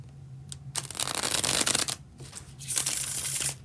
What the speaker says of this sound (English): That was the bridge shuffle